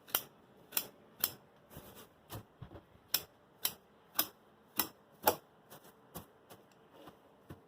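Scissors snip pine needles for a bonsai in a run of sharp, close clicks, about a dozen crisp cuts at an uneven pace over a quiet background.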